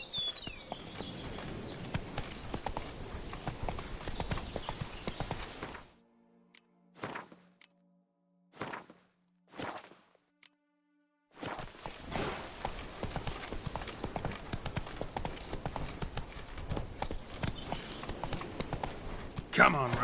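Hooves of the horse Roach in The Witcher III clopping in a steady walking rhythm, close and fairly loud, stopping abruptly for a few seconds of near silence with brief thuds before resuming; a voice speaks over it.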